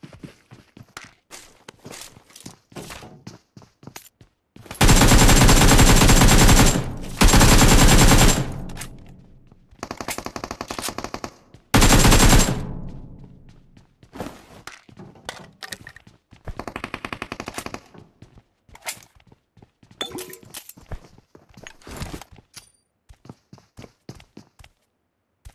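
Automatic gunfire in the PUBG Mobile battle royale on the Livik map, loud sustained bursts of machine-gun fire in several strings, surrounded by quicker short shots and footstep-like clicks.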